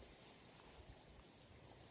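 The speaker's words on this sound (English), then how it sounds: "I don't know if you can hear the crickets," Crickets chirp at night in Merced, California, a faint, steady high-pitched pulsing repeating about every third of a second over quiet background hiss, with no talking.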